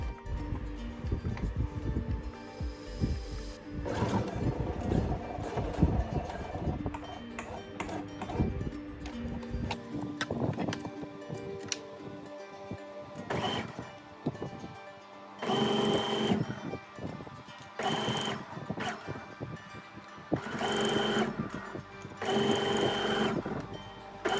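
Sewing machine stitching straight seams along the edge of a kameez, running in rapid mechanical bursts with pauses between runs, close and clear, with handling of fabric in the gaps.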